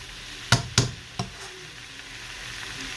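Ground pork and tomato frying in a pan, a steady sizzle broken by three sharp knocks or taps of a utensil early on, then a settling crackle.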